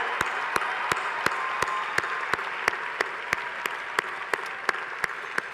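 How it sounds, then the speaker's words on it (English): A commencement audience applauds its graduating class, a sustained wash of crowd clapping with sharp individual claps standing out at a steady beat above the dense background. "Let's give them another huge round of applause."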